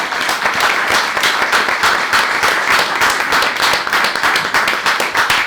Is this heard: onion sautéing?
no